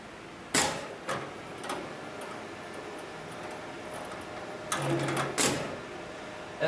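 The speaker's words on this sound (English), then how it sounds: "turn the power button on for the motor, which activates the computer and also the motor for the sewing machine" An automatic thick rope bartack sewing machine's motor and computer power up, giving sharp mechanical clicks and clacks at irregular intervals over a low steady hum, close and fairly quiet.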